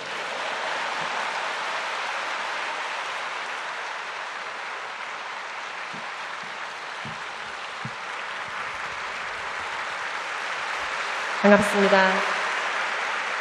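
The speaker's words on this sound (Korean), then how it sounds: "박수로 환영하시겠습니다" Sustained audience applause in a church hall, a dense, even roar of clapping that goes on for many seconds before a voice briefly greets the crowd near the end.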